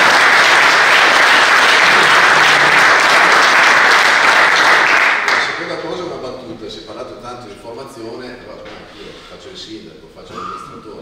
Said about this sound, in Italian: Bello applauso.